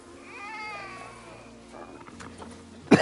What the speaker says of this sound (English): This is my first snow leopard kitten.